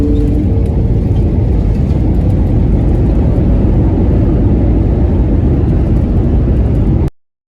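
Cebu Pacific Airbus A321 roars through touchdown on the Manila runway, a loud continuous cabin rumble of engine and wheel noise that holds steady for several seconds before cutting off abruptly.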